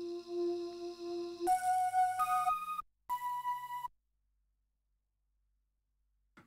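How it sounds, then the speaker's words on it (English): Fairlight Anklungs sample played back on an Ensoniq Mirage Series 2 sampler, a few bright pitched bamboo-like tones stepping through different notes, close and clear, then cutting off into silence. "It's from a Fairlight and it's called Fairlight Anklungs."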